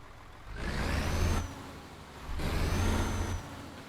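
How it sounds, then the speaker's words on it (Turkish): A heavy diesel Mercedes-Benz Actros MP2 truck engine in Euro Truck Simulator 2 cranks and revs twice in two long bursts of low rumble with a high whine, separated by a brief dip. "Dilerseniz marşımıza basalım motor sesi filan."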